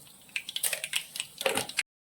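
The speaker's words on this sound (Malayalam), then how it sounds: "നമുക്ക് ഒരല്പം കടുക് ഇട്ട് പൊട്ടിക്കാവേ." Mustard seeds spluttering in hot oil: rapid, irregular crackling pops close by, bunched in bursts, stopping abruptly, with no talking.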